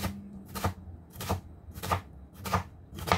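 Chopped yellow onion worked into a meatball mixture in a bowl, making about five evenly spaced soft, wet mashing strokes, close and fairly quiet.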